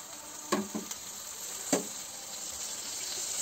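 Tomato goes into a hot pan for ras-bhat, an Uttarakhand hill rice dish, and fries with a low steady sizzle. A few sharp crackling spatters stand out close by, with no voices.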